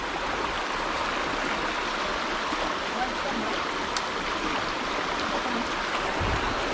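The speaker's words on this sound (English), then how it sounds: "That's a nice brook." Creek water flowing steadily in a summer fishing spot, a broad continuous rush close by that holds evenly throughout with no talk over it.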